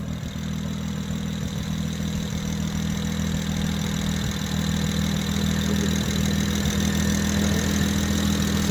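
BMW 335i M Sport from 2007 with its N54 twin-turbo 3-litre petrol engine idling, a steady, smooth low hum with a faint whine above, close and constant throughout, with no voices.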